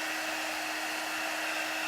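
A handheld craft heat tool on its high speed setting blows warm air with a steady, close, loud whir and a constant tone, running alone without pause.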